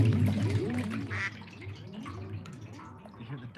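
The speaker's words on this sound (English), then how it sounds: "You hear the duck quacking in the background?" A duck quacks several times beside a river, a string of nasal calls over running water and splashing.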